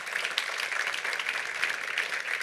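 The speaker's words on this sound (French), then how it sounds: "Sous vos applaudissements nourris" Conference audience giving a sustained round of applause before a panel debate on construction, a steady, even patter of many hands clapping at moderate volume.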